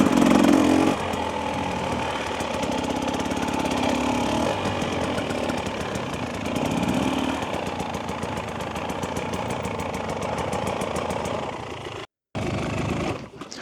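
A 2025 Husqvarna TE300 dirt bike engine runs steadily while being ridden, a loud, sustained mid-pitched drone with slight surges, briefly cutting out near the end before returning.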